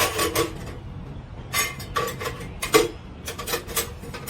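Metal parts and pot supports of a rocket stove clatter and clink as they are set inside the metal stove body, in several separate bursts of close clanking with short quiet gaps between.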